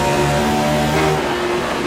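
A race car engine in the Assetto Corsa racing game holds a loud, steady high-revving drone with layered harmonics, heard up close and alone with no talk over it.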